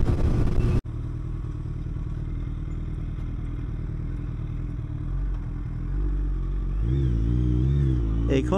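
A motorcycle being ridden along a road toward Bongaigaon, its engine droning steadily and loudly up close, with the rumble swelling and wavering toward the end as it changes speed; the bike reportedly has a problem over speed breakers.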